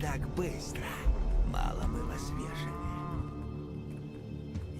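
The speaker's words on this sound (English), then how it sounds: "I love the sudden and outrageous cow" A cow moos loudly and suddenly in the video game Pathologic 3, a long drawn-out bellow heard over background game music and ambience.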